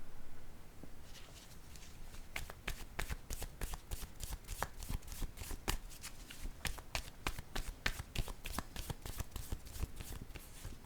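Tarot cards being shuffled during a card reading, a steady stream of close, crisp riffling snaps that builds into a dense rapid patter for about ten seconds, with no voice.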